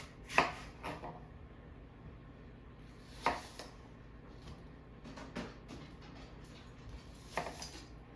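Knife chopping an apple on a cutting board for a cocktail garnish: four or five crisp, separate chops spaced a few seconds apart, close and fairly quiet in a calm kitchen.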